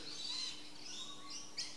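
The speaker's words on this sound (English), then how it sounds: "you can hear the birds" Faint birdsong drifts in from outside a shed: a few soft, distant chirps over quiet background hiss, with no talking.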